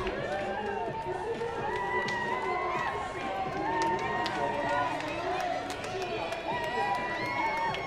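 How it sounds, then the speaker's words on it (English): Crowd lining an Ohio University homecoming parade, cheering and shouting encouragement to passing marchers, a sustained lively roar of voices with whoops and scattered claps, with a commentator talking over it. "Getting a lot of encouragement from the crowd"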